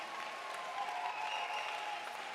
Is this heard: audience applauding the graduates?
yes